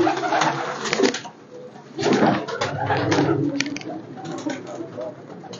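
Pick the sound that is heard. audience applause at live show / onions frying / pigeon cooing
pigeon cooing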